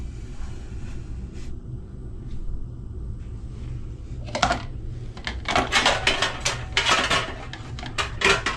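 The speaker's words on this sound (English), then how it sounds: "just gonna whisk these together." A whisk scrapes and clinks in a bowl as whole milk and sour cream are beaten together, quiet at first, then bursts of rapid metallic tapping grow louder and more continuous toward the end.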